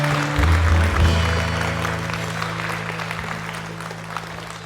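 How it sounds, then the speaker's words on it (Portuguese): A church congregation at a worship service in Gravataí gives loud, close applause that tapers off over several seconds. Music or organ tones sustain beneath the clapping. "uma salva de palmas bem forte para Jesus"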